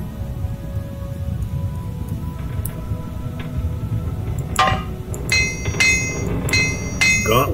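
Repair hammer striking armor in the video game Morrowind, a series of bright metallic clinks in the second half, several sharp strikes in irregular rhythm over a steady background game ambience.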